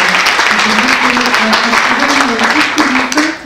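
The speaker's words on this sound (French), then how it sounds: "je vous demande d'applaudir encore une fois" Audience applause at a fundraising conference on student entrepreneurship, a dense steady wash of many hands clapping close and loud, with a voice speaking faintly beneath it throughout.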